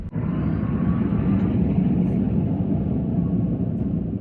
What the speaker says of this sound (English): You can hear that whining high-pitched noise when you accelerate.